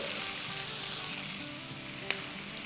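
Chicken keema sautéing with salt in a pan gives a steady, close sizzle throughout, with a single sharp utensil tick near the end.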